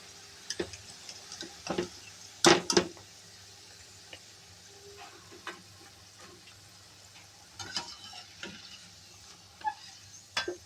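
Onion pakoda fritters fry in hot oil, giving a faint, steady sizzle broken by scattered sharp clicks and scrapes of stirring, with a louder burst of clatter partway through.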